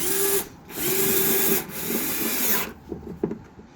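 A Snap-On Nano Access Driver runs a screw into wood with a steady, close whirring drive that cuts out, starts again and then stops in a few short bursts as the screw seats.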